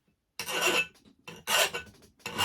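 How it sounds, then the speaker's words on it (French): An iron file rasps across the notched steel edge of an axe blade during sharpening, giving three loud, close back-and-forth strokes separated by short pauses, with no voices. "je prends une lime à fer"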